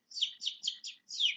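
A person whistles through their teeth in a bird-like imitation: five quick, high chirping notes, the last one longer and sliding downward, close and clear.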